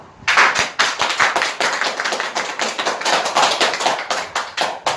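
A small church audience claps steadily to welcome a speaker forward, a burst of close, fairly loud hand claps lasting several seconds with no talk over it.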